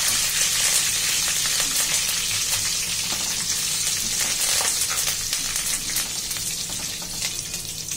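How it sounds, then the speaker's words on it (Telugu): Curry leaves crackle and sizzle as they fry in hot oil, a dense, steady spitting hiss with sharp pops scattered throughout, close and loud with no talking. "కరివేపాకు చిటపట ఉంటుందండి, మీద పడే ప్రమాదం ఉంది, జాగ్రత్తగా వేసుకోవాలి"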